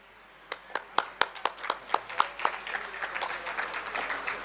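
Audience applause at an award function honouring blood donors for the army: separate sharp claps at first, then a dense, steady round of clapping from the crowd.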